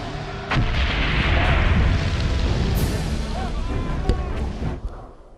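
Artillery fire rumbles across a World War I battlefield at Vimy Ridge in 1917 in Valiant Hearts: The Great War, a dense low barrage with a sharp report near the end.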